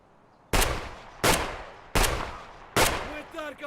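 Gunfire in the video game Escape From Tarkov, four loud, evenly spaced shots, each with a sharp crack and a short decaying tail, with a faint ringing after the last.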